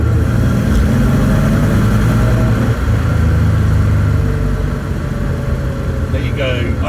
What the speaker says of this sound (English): I'll drop down to second, and I'll just give it a quick little bit.